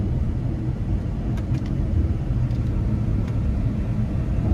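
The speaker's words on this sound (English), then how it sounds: "just how nice the exhaust sounds paired with this V8" A 2014 Porsche Panamera GTS with a 440 hp 4.8-liter V8 drives along, its exhaust a steady low rumble heard from inside the cabin, even and continuous without talk.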